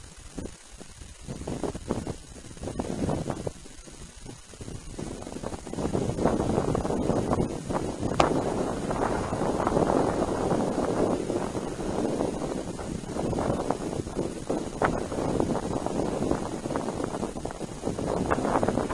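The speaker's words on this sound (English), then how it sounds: "That wind's gusty." Gusty wind buffets the microphone at a model airfield, a steady broadband rumble that swells and dips for most of the stretch, loud and close, with no voices.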